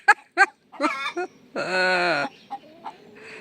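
A hen clucks nearby in a garden setting, a few short clucks followed by a longer drawn-out squawking call and a few softer trailing notes.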